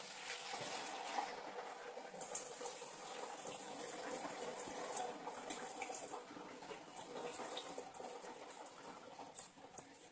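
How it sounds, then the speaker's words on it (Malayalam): Boiled water poured into a hot pan for ghee rice with coconut milk makes a continuous faint patter and splashing hiss, steady for several seconds in a quiet kitchen. "നമുക്ക് ഇതിനകത്തോട്ട് തിളപ്പിച്ച് വെച്ചിരിക്കുന്ന വെള്ളം ഒഴിക്കാം"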